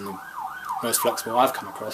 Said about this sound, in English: I apologise for the police siren if you can hear that